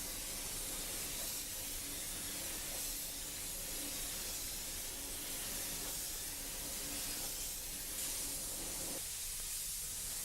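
An airbrush at 40 PSI lays a light coat of custom paint, giving a steady, even hiss that runs unbroken from start to finish.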